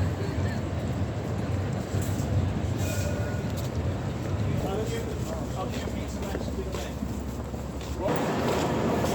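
Steady rumble of a train at Edinburgh Waverley station, bound for Glasgow Central, with a low continuous drone and faint high squeals, changing in tone near the end.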